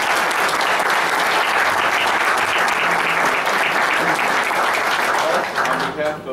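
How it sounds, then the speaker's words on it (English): A council meeting audience gives a sustained round of applause, dense clapping filling the room at steady volume before it tapers off near the end. "So maybe we can just give him a round of applause."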